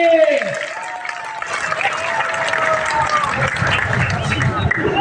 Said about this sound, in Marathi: टाळ्या करा जरा दोन्ही पोरांसाठी.